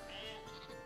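A sheep bleats once in the strategy video game Northgard. The call is short and faint, and no speech is heard over it.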